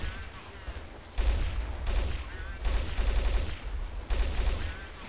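Gunfire in the video game Counter-Strike: Source, several sharp bursts of rapid shots at roughly one-second intervals over a low background, moderately loud, with some indistinct voice underneath.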